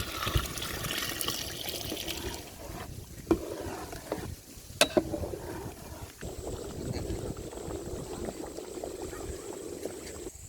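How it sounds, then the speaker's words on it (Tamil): Water splashes and bubbles into a cooking pot with a steady gurgling wash, broken by a few sharp clinks of utensils, while making vegetable white kurma. "தண்ணி ஊற்றுறோம் வாட்டர்"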